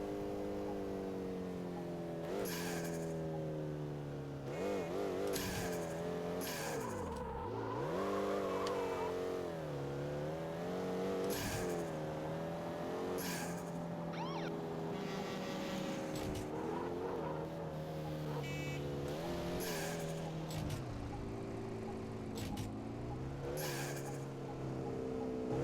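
In the PC racing game Street Racing Syndicate, a car engine revs and rises through the gears, its tone climbing and dropping with each shift. Sharp clicks and brief squeals cut in over a steady, loud, continuous drive.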